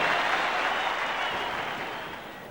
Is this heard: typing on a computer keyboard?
no